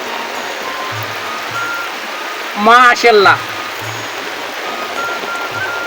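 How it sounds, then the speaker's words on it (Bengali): Heavy rain falls steadily on the Gomti river in Comilla during fishing, making a continuous wash of hiss. Someone speaks briefly partway through over the rain. "বৃষ্টিতে ভিজতেছি আর মাছ ধরতেছি"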